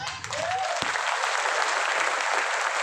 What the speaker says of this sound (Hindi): तो एक बार गुरुदेव के लिए कैसी तालियां होंगी?